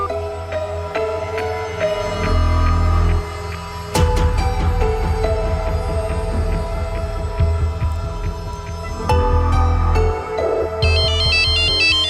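A mobile phone plays a loud electronic ringtone melody for an incoming call, looping steadily over a low hum with brief pauses between phrases.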